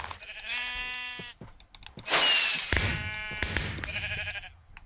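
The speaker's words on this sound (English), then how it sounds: "let me just kill this sheep here." Sheep in a modded Minecraft-style video game bleat in repeated, nasal calls, separated by a loud burst of noise midway, with game sounds around them and no talking.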